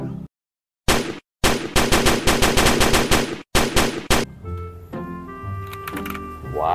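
Rapid bursts of toy machine-gun fire rattle loudly in quick clusters, separated by short gaps, then give way to a ringing electronic tone.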